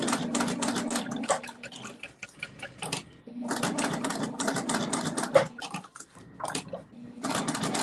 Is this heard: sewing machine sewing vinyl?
yes